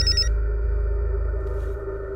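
A telephone ringing with a steady, electronic tone that holds for about two seconds, loud and alone with no talk.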